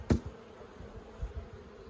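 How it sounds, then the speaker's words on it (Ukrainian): Carniolan honey bees hum inside an opened hive, a low, steady buzz close by. A sharp knock sounds at the start, and a few soft thuds follow. "У цьому вулику у нас карніка"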